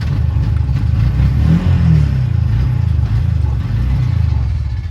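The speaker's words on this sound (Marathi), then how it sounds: "हे बघा झाली सी एन जीवरती रिक्षा चालू झाली आहे" A Bajaj RE BS6 auto rickshaw engine idling on CNG, a loud, close, steady mechanical rumble with a fast rhythmic chugging pulse and a slight rise in the middle, heard alone without talk.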